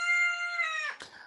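A single rooster crows close by, a loud sustained harmonic call that ends in a short rough break-off.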